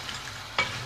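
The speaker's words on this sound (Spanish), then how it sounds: "Agrego los berberechos." Cockles drop into a hot pan for an empanada filling, giving a sudden close sizzle burst that settles into steady frying hiss.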